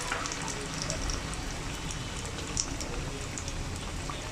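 Jackfruit-juice fritters fry in hot oil, a steady dense crackling sizzle like rain, close and even throughout with no talk.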